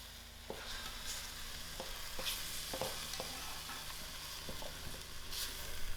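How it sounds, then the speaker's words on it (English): Tomatoes frying with soya mince in a pan for a vegetarian curry pie filling, a steady soft sizzle broken by repeated scrapes and taps of a stirring spoon. "Now I'm going to add in my tomatoes, and I'll allow the tomatoes to cook out."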